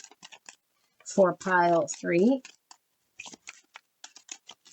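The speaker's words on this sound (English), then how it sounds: "So we have 3 more decks to" Soft rapid riffling and flicking of tarot cards being shuffled in short bursts, with a person speaking briefly in the middle.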